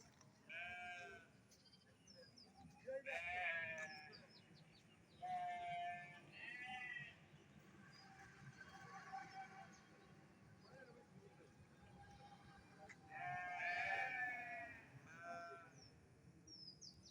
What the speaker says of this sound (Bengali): এই যে আমাদের বর্ষা অর্গানিক এগ্রো ফার্ম ভেড়া